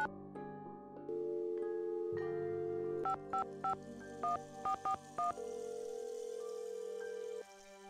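Dialing a phone number in the Nancy Drew video game Secret of the Scarlet Hand: a steady dial tone, then a series of about eight short, clear touch-tone beeps in quick succession, followed by a sustained tone, with no talking.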